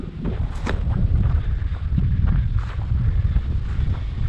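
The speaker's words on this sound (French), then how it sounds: "J'espère que le vent vous dérange pas de trop." Steady wind roaring and buffeting outdoors at the Lac fantôme on the Larzac plateau, a continuous low rumble with gusts rising and falling throughout.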